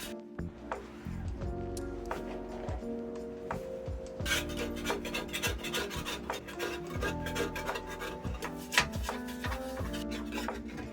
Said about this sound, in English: By nightfall I scraped the top side clean.